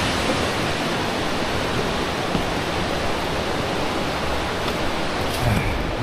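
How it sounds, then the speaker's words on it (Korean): Guryong Falls on Jirisan mountain roars loud and close in a dense, unbroken rush of falling water that stays constant from start to finish. "바로 밑에가 지금 구룡폭포입니다."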